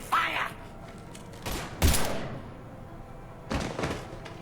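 Scattered heavy gunshots in Mass Effect 3 sound as a few separate loud bursts, spaced out over several seconds against a low background.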